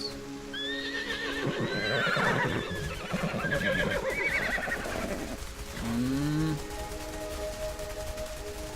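A horse in the video game Everything neighs in a long, loud whinny up close, joined by clip-clopping hooves and a brief bird call, then a lower snorting call near the end.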